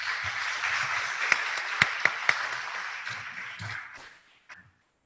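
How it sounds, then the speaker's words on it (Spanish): An audience applauds to welcome the evening's engineering lecturer, steady clapping with a few sharp louder claps, fading out near the end. "Aplausos, por favor."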